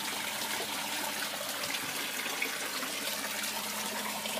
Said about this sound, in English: with this valve down here, I can regulate the flow of water going into my filter